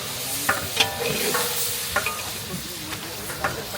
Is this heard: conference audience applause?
no